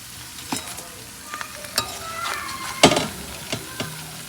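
Frying agasta (bakphul) flower fritters in an iron wok: steady sizzle and crackle with scattered sharp clacks of a utensil scraping the pan, close and moderately loud, no voices.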